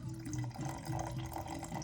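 Water pours into a jar for a sourdough starter, a steady close trickle and splash that runs the whole time, quiet and with no talking.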